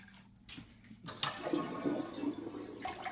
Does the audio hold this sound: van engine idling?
no